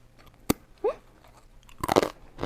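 A crunchy packaged snack is bitten and chewed close to the microphone: a sharp first bite, a second crackly bite, then a brief cluster of loud crunching. There is no talking.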